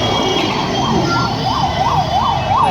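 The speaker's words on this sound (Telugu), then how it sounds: "చాలా అంబులెన్స్ వస్తుంది." Ambulance siren cycling through repeated up-and-down wails, loud and near, cutting through congested night traffic around the Khairatabad Ganesh celebrations, with engine drone underneath.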